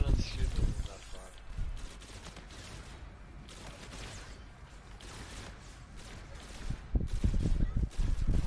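Gunfire in the zombie shooter Beast from Beyond comes in loud, close bursts at the start and again near the end, with quieter sporadic shots between and a voice talking over it.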